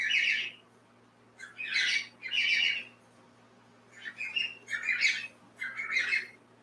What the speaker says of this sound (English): So when these birds get started, I can pause it.